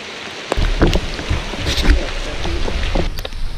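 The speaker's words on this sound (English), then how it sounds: "it's raining again" Rain falls outdoors beside a drain trench, a close, steady patter with a few louder knocks and thumps near the microphone.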